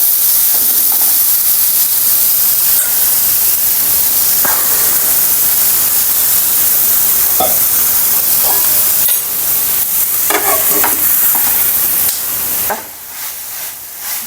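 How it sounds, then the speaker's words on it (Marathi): Sendwal flower buds cooking as a vegetable in a lidded pan give off a continuous loud steam hiss and soft sizzle, broken by a few small clinks and dropping quieter at the very end. "झाकून ठेवूया एक वाफ आणूया"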